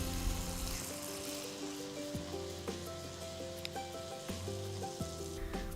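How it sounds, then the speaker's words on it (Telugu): Batter-coated poornam balls frying in hot oil, a dense, steady crackling sizzle close up, with occasional light pops and a faint tonal hum in the background, no talking. "ఇప్పుడు పూర్ణం ఉండల్ని తీసుకొని వాటిని పిండిలో అన్ని వైపులా కోట్ అయ్యేట్టు ముంచి వేడి నూనెలో నెమ్మదిగా వేసుకోవాలి"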